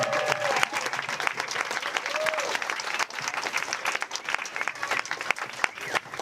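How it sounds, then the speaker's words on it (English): Audience at a bike story night breaking into steady, dense applause, many hands clapping continuously at moderate distance for several seconds, with a few faint voices mixed in. "Let's give him a round of applause."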